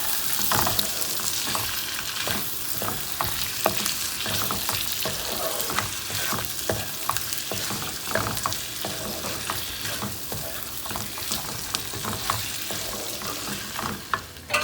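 Eggs coated in masala are stirred on a tawa, steady sizzling mixed with repeated scraping and tapping of a utensil against the hot pan over a long stretch, with no one speaking.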